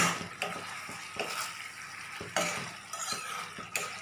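Chicken malai masala cooking on a low flame in a pan, a soft continuous sizzle of frying under repeated scraping stirs of a spoon against the pan.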